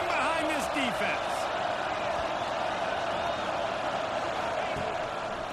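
Stadium crowd in a football video game roaring steadily for the defense on a big third down in the red zone, a loud sustained wall of noise with a commentator's voice over it.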